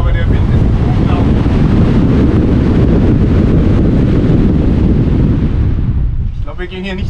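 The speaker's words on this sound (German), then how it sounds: "Aber der Wind ist unglaublich." Strong wind at the sea on La Palma roars across the microphone in a loud, continuous buffeting rush with surf underneath, easing slightly near the end.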